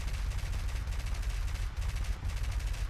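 Aircraft guns in War Thunder fire continuously in rapid bursts during a landing, sounding as a dense, rattling stream of gunfire heard at moderate volume with brief gaps.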